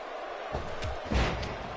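A knee strike lands in a wrestling video game at a Brooklyn, New York event, giving a couple of dull slamming thumps over steady crowd noise.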